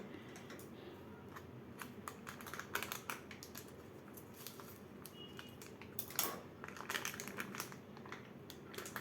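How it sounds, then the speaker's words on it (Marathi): A plastic bag of buttermilk being cut or torn open in a home kitchen, with quiet crinkling and a few sharp snips and rustles close by, then a brief louder tear. "आता आपल्याला हे ताकाची बॅग फोडून घ्यायची आहे"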